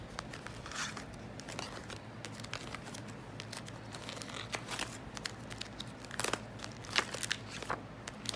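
Planner pages flipped one after another, close-up papery rustles, crinkles and soft flicks in irregular bursts, quiet and alone over faint room hum.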